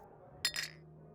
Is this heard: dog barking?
no